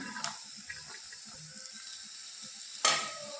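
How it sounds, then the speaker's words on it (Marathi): Chopped onion sautés in a pan, giving a low quiet sizzle with soft scattered stirring scrapes, ending in a sharp spoon clank against the pan. "आता कांदा छान आपल्याला गुलाबी कलर येईपर्यंत परतून घ्यायचा आहे"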